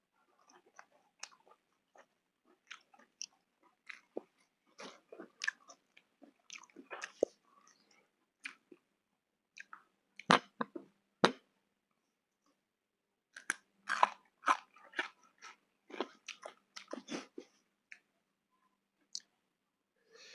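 Someone eats raw beef koi, an Isan-style dish of beef and tripe in blood with sweet liver and garlic, close up: a scattering of wet chewing, smacking and crunchy clicks, with quiet gaps between.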